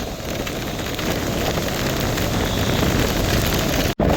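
Heavy rain pours down in a loud, constant roar during a storm in Mullaitivu, with gusty wind adding to the steady wash of noise and a brief dropout near the end.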